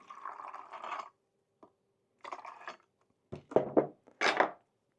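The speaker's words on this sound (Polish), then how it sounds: "Wlewam trochę wody." Water poured from a container into a plastic bottle being made into a wasp trap, heard as a few short splashing pours separated by pauses, close and fairly loud, with no talking.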